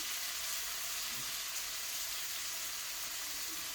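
Butter-coated steaks sizzle on an outdoor grill on a farm deck, giving a continuous soft, even hiss with no talking.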